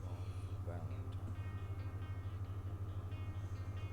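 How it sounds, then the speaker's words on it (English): Steady rumbling hum of a train rolling along the rails in a video game on the trip toward Valentine, a constant low drone with faint mechanical rattles, running continuously under people talking. "get on that damn train and set off for Valentine"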